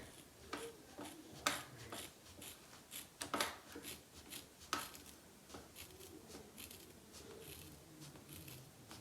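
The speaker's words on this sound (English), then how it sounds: "Okay, I'm gonna cut it to here to start with." Scissors snip through a doll's hair, giving faint, sparse crisp clicks that come one at a time with gaps between them, heard close up against a quiet room with no talking.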